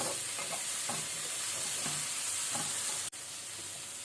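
Chopped medium tomato frying and being stirred in a pan for paneer bhindi sabji: steady bright sizzle with soft spatula scrapes, continuous and close, with a brief dip near the end.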